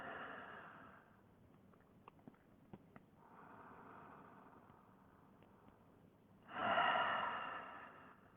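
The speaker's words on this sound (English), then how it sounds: "If you're making audible sound while you're breathing," Slow, audible breaths during a yoga session, drawn-out airy exhales and inhales with a stronger final breath, close and quiet, with faint clicks between breaths and no speech.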